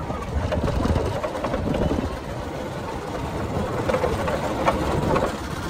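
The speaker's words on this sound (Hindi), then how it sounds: "अभी बाइक से जा रहे हैं" A motorbike engine runs steadily while riding through a market area, with a dense, continuous rumble and broadband road and wind noise throughout, loud and close.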